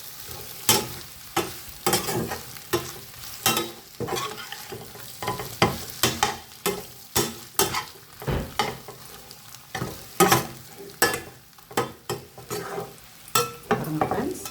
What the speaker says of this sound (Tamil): கொஞ்சம் சாஸ் ஊற்றின பிறகு கொஞ்சம் ஒரு வதக்குனா போதும்